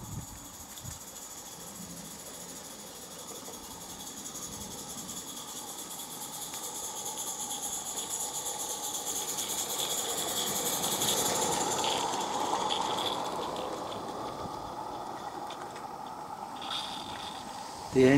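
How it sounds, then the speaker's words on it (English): A light railway engine runs round its vintage coaches for the return journey, giving a continuous mechanical rumble and hiss that swells to a peak midway and then eases, heard from the lineside with no talk. "The engine runs round the train, ready for the return journey."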